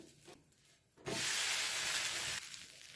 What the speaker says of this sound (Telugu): ఇక దోశలు అయితే వేస్తూ ఉన్నాను.